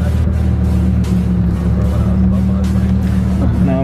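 A Lamborghini Huracan Performante engine hums steadily from inside the cabin while the car drives and turns, a loud low drone with voices talking over it.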